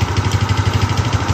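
An engine idles and is gently revved while its radiator is flushed, giving a loud, close, steady pulsing chug with an even rhythm and no one speaking.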